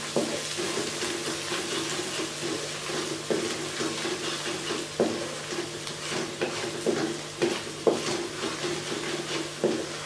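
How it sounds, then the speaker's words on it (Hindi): Spices roasting in desi ghee for brinjal bharta, a steady close sizzle of frying with periodic scraping and stirring clicks of a utensil against the pan. "देसी घी में हम मसाले भून रहे हैं।"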